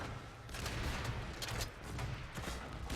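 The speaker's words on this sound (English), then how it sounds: "That was 2 shots at once." Bursts of gunfire from the Sunder weapon in a video game, with dense overlapping shots and booming impacts, including two firing at once, heard fairly faint and unbroken across the whole moment.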